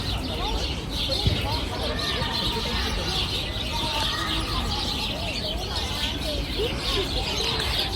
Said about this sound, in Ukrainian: Он чуєте, навіть горобці співають, наче весна на вулиці.